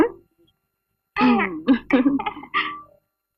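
A short burst of coughing and throat clearing from an elderly man after a brief moment of quiet, close and fairly loud.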